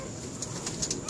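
A racing pigeon at a loft on basketing night gives soft, brief coos, close by and faint, over a low background murmur.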